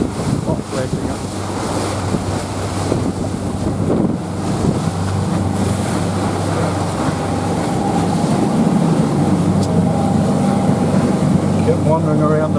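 A boat cruises at sea at about ten knots with a constant low engine drone, rushing wind buffeting the microphone and waves washing against the hull, loud and continuous.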